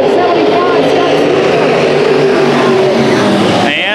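IMCA Modified race cars idle and rev loudly at Arizona Speedway ahead of a heat race, a dense continuous engine roar filling the clip, with a brief change near the end.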